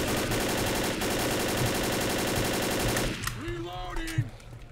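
Rapid automatic gunfire in the zombie shooter Left 4 Dead rattles on loud and unbroken for about three seconds, then stops as a voice speaks over the fading game noise.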